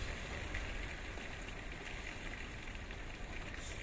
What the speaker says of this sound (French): C'est le déluge, ça y est, il pleut, il pleut, il pleut